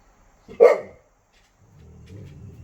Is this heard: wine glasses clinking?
no